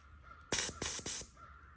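A paint spray gun sprays white primer in three short, loud hissing bursts separated by brief pauses, close to the microphone, against a quiet background.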